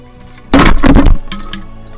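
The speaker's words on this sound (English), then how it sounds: "Oh, sorry about that noise on the microphone, there was a slight collapse of equipment." Microphone equipment collapses with a sudden loud crash lasting about half a second, followed by a few lighter clattering knocks as it settles.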